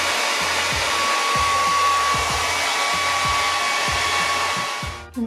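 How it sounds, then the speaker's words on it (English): A hair dryer blow-drying hair: a loud, steady close-up whoosh with a faint motor whine and regular soft bumps, cutting off abruptly at the end, no voices. "I need to blow dry this a little bit before I take that one out. I'm gonna blow dry it some."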